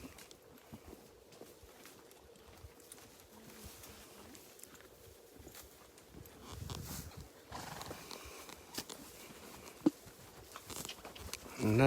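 Horse hooves sound during a horseback safari ride, with soft, irregular clopping and thuds in the open, faint at first and growing somewhat louder toward the end.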